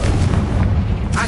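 A Bombarda spell explosion in Hogwarts Legacy on PS5, a loud close booming blast with a deep rumbling body that fills the short moment.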